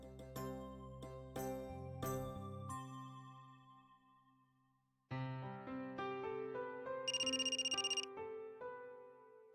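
A phone rings during an outgoing call in a Marathi TV serial scene: a melodic ringtone sounds, dies away into silence, then repeats with a bright chiming tone. It is clear and close, with no talking over it.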